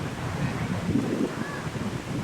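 Wind buffets the microphone in low, uneven rumbling gusts, with no voices.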